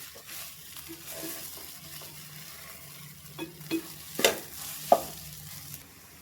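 Soy chunk keema sizzles in a pan while it is stirred, with low frying hiss broken by several scraping strokes and a couple of sharper knocks toward the end.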